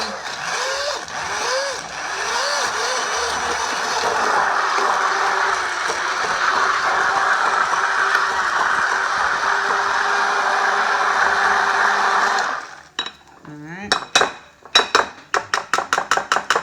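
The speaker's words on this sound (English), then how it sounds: "I'm going to just blend them up with the immersion blender" An immersion blender whirs steadily blending tomatoes for about twelve seconds, then stops, followed by a series of clinks and taps against a pot.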